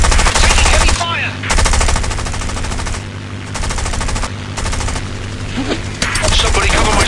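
Heavy machine gun fire from the War Wings aerial combat game plays as loud, continuous rapid bursts broken by short pauses, with faint game voice callouts mixed in.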